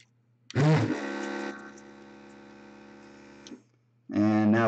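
A vacuum desoldering tool pumps steadily for about three seconds while a PS4 controller is being repaired, a loud, even motor hum that starts abruptly and cuts off cleanly, with a short burst of sound just before and after.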